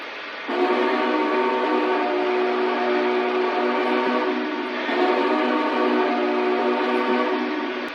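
A loud, steady multi-note whistle of a model Big Boy steam locomotive sounds continuously, dipping briefly midway before resuming, with no voices.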